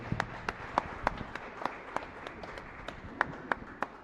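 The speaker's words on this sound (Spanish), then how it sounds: "Fuerte aplauso para nuestra comunidad." Scattered clapping from a congregation in a chapel during a novena to the Virgen del Carmen, a few hands striking in loose, uneven rhythm, moderately faint over room murmur.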